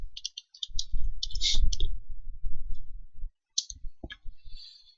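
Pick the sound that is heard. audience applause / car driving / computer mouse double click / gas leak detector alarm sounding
computer mouse double click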